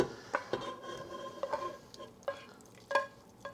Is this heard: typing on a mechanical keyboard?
no